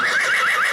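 A horse gives a single short, bright whinny with a wavering, trilling pitch, loud and close, lasting under a second.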